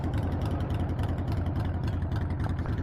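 A Harley-Davidson XL 883 Iron Sportster motorcycle engine running with a steady, heavy low throb and rhythmic pulsing, loud and close, holding an even tone without revving, no talking.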